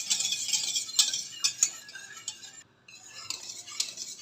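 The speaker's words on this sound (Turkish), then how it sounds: "Böyle sürekli karıştırarak yapmamız lazım arkadaşlar" A spoon stirs thickening milk pudding in a pot on the stove, scraping softly around the pan with several sharp metallic clinks and one brief pause, close and fairly quiet.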